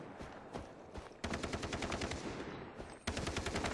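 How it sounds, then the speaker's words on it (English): Automatic gunfire in Far Cry 3 multiplayer, sustained rapid bursts of shots, loud and close, with one brief pause between two long volleys. "That's just terrible shooting."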